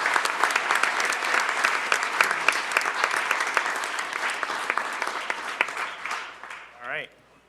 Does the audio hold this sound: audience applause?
yes